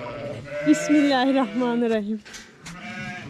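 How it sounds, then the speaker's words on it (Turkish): A ewe and her newborn lambs bleat close by in a snowy farmyard, with a long wavering bleat followed by shorter, higher calls while someone speaks over them. "Ahan da koyunum doğurmuş."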